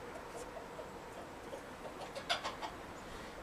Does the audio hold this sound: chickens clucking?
yes